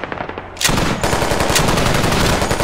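Sustained machine gun fire in a first-person squad shooter game, a quiet start broken by a loud continuous rattling burst of rapid shots running dense and close for about two seconds.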